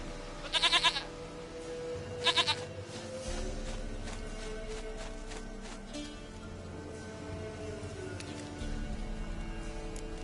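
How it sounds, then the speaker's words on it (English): A goat in a PS4 video game gives two loud, close bleats early on, then a quieter in-game ambience of low hum and soft background noise follows. "Goat of mine, dearest, sweetest goat."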